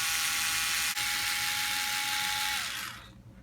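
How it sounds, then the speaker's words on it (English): A small electric screwdriver whirs steadily at a high pitch, close and continuous, removing the rear bumper mount screws on an RC 4x4 crawler, then winds down and stops near the end. "we can go ahead and pull out the rear bumper mount screws"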